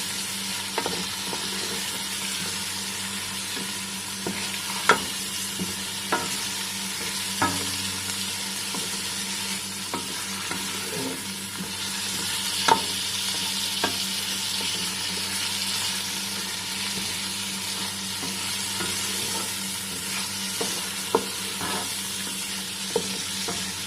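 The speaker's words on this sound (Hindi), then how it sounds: "इसको 5 मिनट तक इसको भूनना है" Mutton and spinach frying in a pan give a steady, even sizzle, broken by occasional scraping and clinking taps as a utensil stirs them, close up and continuous with no talking.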